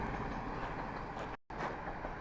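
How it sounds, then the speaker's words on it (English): A train rumbles past near Dalwhinnie in the Scottish Highlands, a broad steady roar of rail noise at moderate distance with no one speaking. "oh, there goes the train."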